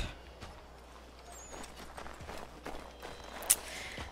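Horse hooves clip-clop at a walking pace in Assassin's Creed 3, set in colonial Boston, with soft irregular knocks over a low ambient hum and a brief sharp click near the end.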